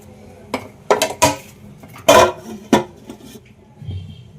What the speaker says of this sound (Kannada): ಮುಚ್ಚಳ ಮುಚ್ಚಿ 5 ನಿಮಿಷ ಸೈಡಿಗೆ ಇಡಿ.